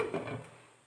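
A lid is set over a pan of Maggi noodles cooking on the stove, giving one brief metallic clatter near the mic that fades quickly.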